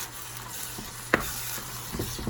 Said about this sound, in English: Stirring that up.